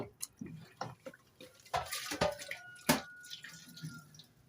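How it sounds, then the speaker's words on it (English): Steel wool is rinsed under running water from a tap, with irregular splashes, drips and scrubbing clatters close by and no talk. "I rinse my steel wool again."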